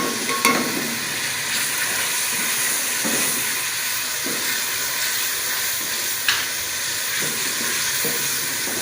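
Green chillies sizzle and fry steadily in a pan while tomatoes cook down for matar pulao, with a few scraping stirs and small clinks over the constant hiss; nobody speaks.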